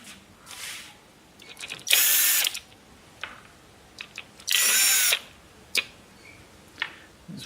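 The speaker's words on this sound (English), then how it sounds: "So they've already been cracked and loosened, so we're just removing them now." A power tool spins out loosened valve cover bolts on an engine in two loud, sustained whirring bursts, separated by quieter clicks and handling noises of the bolts being set aside.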